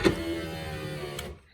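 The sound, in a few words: 1998 Ford F150 driver's power window motor running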